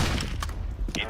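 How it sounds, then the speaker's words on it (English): Flashbang grenade thrown in the video game CS:GO, a pair of short bursts and thuds over dense game noise and a low rumble, with speech-like sound blended in the mix. "Throwing flashbang."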